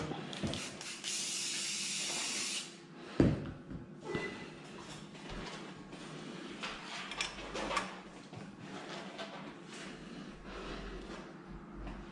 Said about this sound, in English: just spray this a little bit